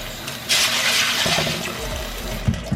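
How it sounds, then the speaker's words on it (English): Water from a tap gushes into a cooking pot holding dry black-eyed peas for soaking, a loud splashing pour lasting about two seconds before tapering off, followed by a couple of soft knocks. "I'm going to add some water"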